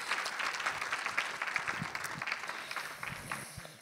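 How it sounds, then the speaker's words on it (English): Audience applause at a church program on mental health, a steady sustained burst of many hands clapping, fairly loud and continuous throughout. "Let's give these guys everyone just a hand of applause."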